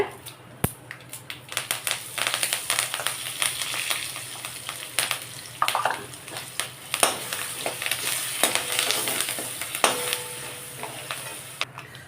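Chana dal frying in hot oil for black urad dal rice, a steady close sizzle punctuated by sharp crackles and spoon scrapes as it is stirred in the pan.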